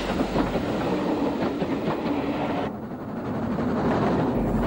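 Steam locomotive 34056 Croydon hauls a passenger train from Waterloo to Bournemouth, a steady, fairly loud rolling rumble with rhythmic wheel clatter that dips briefly before building again.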